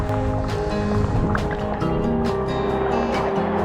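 Steady watery sloshing and rhythmic splashes of sea kayak paddles dipping into the sea off the Ross of Mull, Scotland, with continuous surf-like wash and no voices.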